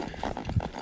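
Palomino mare's hooves walking along a wooded creek-bottom trail, giving soft, muffled, irregular thuds close by, with no talk.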